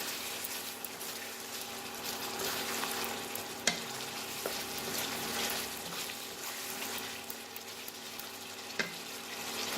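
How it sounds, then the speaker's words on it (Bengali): Chilli egg sizzles and is stirred in a pan with tomato sauce and chilli sauce, a soft continuous frying hiss broken by a few faint clinks of the spoon. "দিয়ে এটাকে খুব ভালো করে নাড়াচাড়া করব।"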